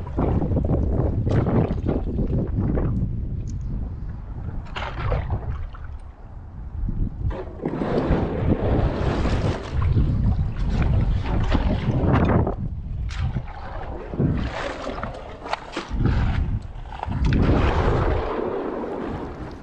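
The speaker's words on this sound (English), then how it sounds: "Perfect. Keep paddling right." A canoe is paddled on the Buffalo River, with splashing paddle strokes and water sloshing against the hull in irregular bursts, mixed with gusts of wind buffeting the microphone outdoors.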